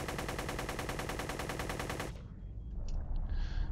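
A gat gun in a space combat video game fires in a fast, unbroken mechanical stream of shots for about two seconds, then stops abruptly, leaving a softer whooshing background.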